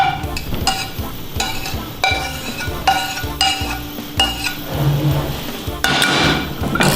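A utensil scrapes and knocks against a pan as shrimp scampi is plated, giving repeated metallic clinks and scrapes in an uneven rhythm, close and fairly loud, with a faint sizzle beneath.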